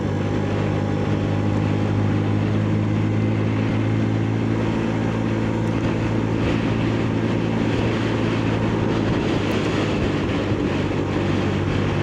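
Benelli motorcycle engine in third gear at about 30 mph through a village, a steady loud drone with strong low harmonics holding evenly throughout, no talk over it.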